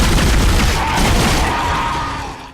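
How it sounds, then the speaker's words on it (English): Pulse rifle from the video game Dead Space firing a rapid, loud burst of shots that rumble together into a sustained barrage before trailing off. "Dead Space has a pulse rifle."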